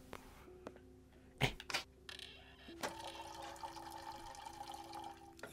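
Bathroom taps in Layers of Fear 2 are turned on after a few clunks, and water runs in a steady, fairly quiet stream that continues to the end.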